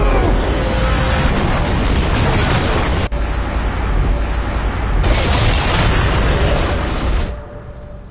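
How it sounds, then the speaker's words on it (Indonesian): A hideout blown up in a film scene by a henchman's explosives: a loud, sustained roar of blasts and rumbling debris with sharp cuts between bursts, filling the whole clip before dropping off at the end. "tempat tersebut pun diledakkan oleh anak buah Lins"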